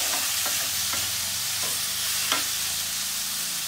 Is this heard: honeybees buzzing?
no